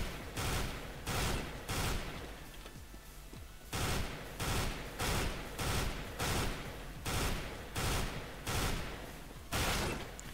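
FAMAS rifle firing in a first-person shooter, a loud, steady run of rapid bursts repeating at even intervals, each a dense cluster of sharp reports, with no voices over it.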